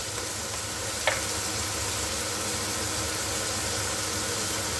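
Potatoes and carrots fry with turmeric and salt in a pan, giving a steady, fairly quiet sizzle with one brief clink early on and no talking.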